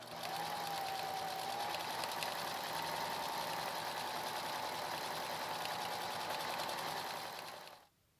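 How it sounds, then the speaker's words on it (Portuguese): A sewing machine quilting fabric and batting whirs steadily at a constant speed for about eight seconds, close and even with a thin high whine, then stops abruptly. "Então, vamos embora quiltar esse tecido aqui."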